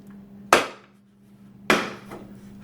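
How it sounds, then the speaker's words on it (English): Two sharp, close clunks about a second apart as the housing cover comes off a wood planer, each fading quickly over a steady low hum. "Now let's take off the housing cover."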